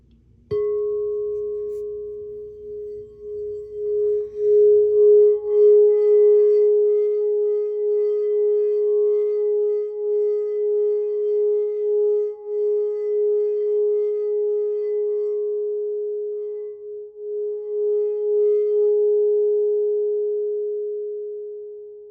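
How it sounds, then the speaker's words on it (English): A singing bowl is struck once and left to ring, its steady pure tone sustaining loud and alone for about twenty seconds with faint shimmering overtones and a slow wavering pulse as it gradually fades. "we're going to cleanse the air real quick before we start the collective message with the sound bowl"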